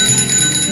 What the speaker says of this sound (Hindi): डाकिये की साइकिल की घंटी मेरे दिल की धड़कनें बढ़ा देती है